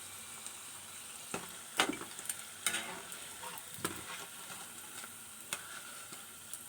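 Maggi noodle pakoda deep-frying in hot oil, a steady soft crackle and bubble with sharp occasional pops and utensil clicks, close and moderately quiet, with no talking.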